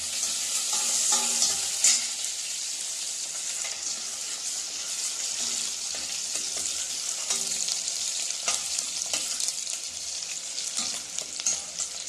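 Onions and curry leaves frying in hot oil for sambar make a continuous close sizzle, with occasional stirring scrapes and light clinks of a utensil against the pan.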